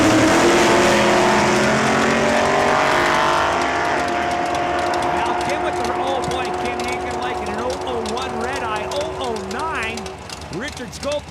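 At a drag strip, a dragster and a 1984 Camaro make a run: loud engine roar and rising revs sweep past and fade into the distance, while a commentator talks over the noise throughout.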